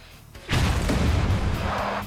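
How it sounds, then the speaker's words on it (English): A car blows up during a film stunt for Roger Corman's Death Race 2050. After a quiet moment, a sudden deep blast bursts out and keeps roaring as a sustained rumble. It is loud and close, with no talking. "The explosion took me off guard every time."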